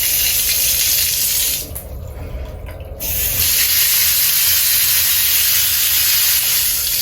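Shower water running hard in a Disney Treasure cruise ship cabin bathroom, a loud close steady hiss and spray that briefly drops and thins for about a second before surging back at full force.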